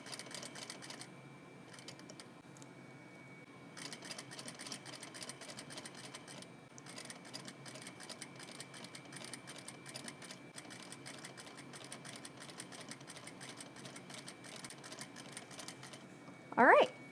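A sewing machine stitches a label into binding with a rapid, even mechanical chatter that starts and stops, running in long bursts, with a brief voice near the end.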